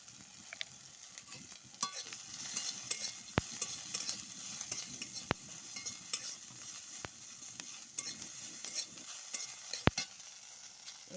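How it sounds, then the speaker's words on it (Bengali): Chopped onion sizzling quietly in a pan with fried potato and brinjal, stirred with a utensil that gives sharp, scattered scrapes and taps over a soft, steady frying hiss. "এরপরে পেঁয়াজ কুচি দিচ্ছি।"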